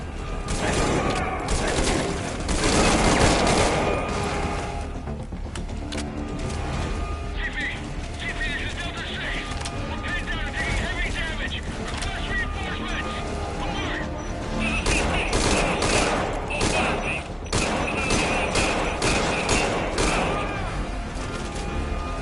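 Suppressed gunfire in a video game on a military base, a busy stretch of repeated muffled shots and bursts mixed with game sounds, steady and fairly loud throughout.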